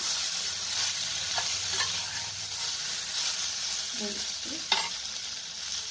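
Potato and ripe banana curry frying in a pan is stirred steadily, a continuous sizzle and hiss with soft scraping of the spoon and one brief clink near the end.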